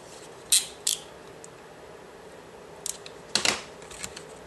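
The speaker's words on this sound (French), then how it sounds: "Vous voyez qu'avec les perforatrices, c'est très simple à réaliser." A few sharp mechanical clicks and clunks from paper hole punches pressing through a birth announcement card, two close snaps early, then a louder pair after a pause, with no talking.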